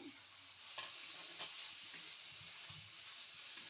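Paneer sautéing in a pan, a steady broadband sizzle of frying with occasional stirring scrapes, close and continuous throughout.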